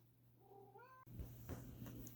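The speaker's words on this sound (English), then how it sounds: "So I'll let my cat out." A cat meows once, a rising and falling tonal cry, followed by a lower, rougher cat sound over a steady background hum.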